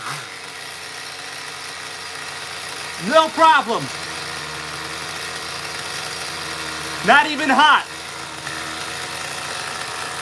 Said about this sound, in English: we could do a whole show with this 18 CBR X idling like this